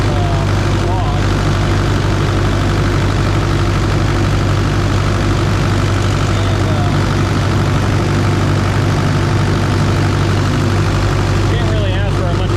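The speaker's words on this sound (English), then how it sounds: "can't really ask for a much better engine than that" The diesel engine of a cheap used excavator idles loudly and steadily, a constant close low chugging drone that barely varies throughout.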